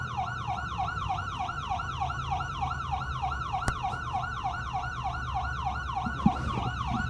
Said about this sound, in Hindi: मैं एक एम्बुलेंस को ड्राइव कर रहा हूं